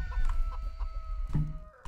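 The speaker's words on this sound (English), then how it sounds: "Chicken production is very good." Chickens clucking in the strategy game Stronghold Legends, a few scattered clucks mixed into sustained background music and game ambience.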